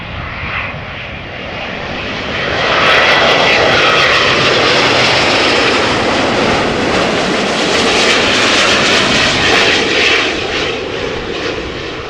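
A Delta Airlines Airbus A350-900 lands after a flight from Atlanta, its loud engine roar swelling and holding steady with a broad rushing wash as it rolls in close, with no voices.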